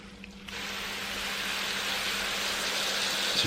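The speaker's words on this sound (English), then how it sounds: "And I'll spray this corner." A spray bottle mists water into a tarantula enclosure, a steady broad hiss that starts abruptly and runs on evenly, close and moderately loud, with a faint low hum underneath.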